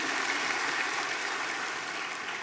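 A church congregation clapping during a worship service, a continuous, even wash of many hands at moderate volume with no voices over it.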